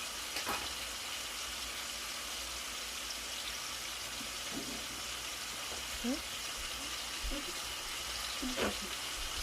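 Meat browning in a pan with onions and bacon for a Philly cheesesteak: a constant soft sizzle and hiss runs throughout with faint clicks and scrapes, and quiet voices in the background.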